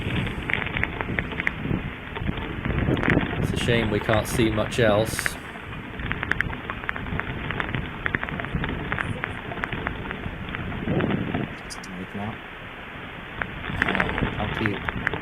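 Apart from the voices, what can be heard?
heavy rain falling during hurricane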